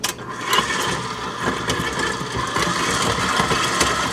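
A stand mixer creams a pound of soft, room-temperature salted butter, giving a steady, fairly loud motor whir with a churning, slightly uneven texture throughout.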